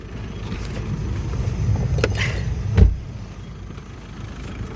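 A car's engine rumbles nearby at low idle, with a brief louder thump or knock partway through, then settles into a quieter steady hum.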